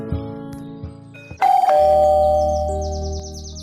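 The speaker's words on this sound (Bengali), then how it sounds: "কলিং বেলটা বেজে উঠল" A calling bell rings inside a house, giving one loud bright electronic chime that sustains and slowly fades. Softer low tones come before it, and a faint chirping melody continues behind the chime.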